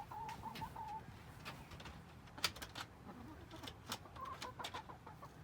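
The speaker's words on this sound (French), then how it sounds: "on va aller chercher les poules" Chickens (hens) clucking and calling in short irregular bursts, fairly close, over a low rumbling background with no talking.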